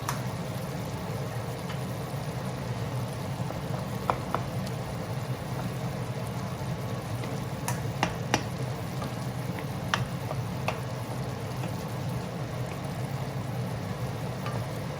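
Tomato and egg sizzle and bubble steadily in a hot pan, a continuous frying hiss with occasional small pops and spatula taps.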